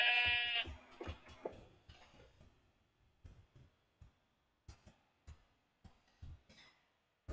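Sheep bleats from the Minecraft video game, one clear bleat at the start followed by a string of short clicks and thumps of gameplay, sparse and close.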